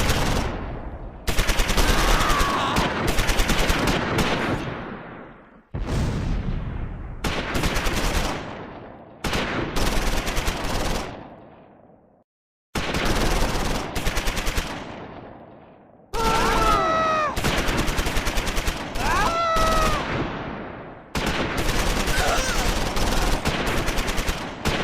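A .30 caliber machine gun and 1st Platoon rifles fire in the Close Combat 4 game, set in the Battle of the Bulge at Udenbreth, 1944: loud bursts of rapid automatic fire and crackling volleys in several long stretches, broken by short pauses.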